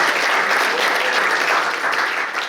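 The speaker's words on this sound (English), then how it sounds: "He got more applause than the table decorations" Applause from the audience at a jazz big band concert, dense and loud, a continuous roar of many hands clapping throughout the short stretch with no pause.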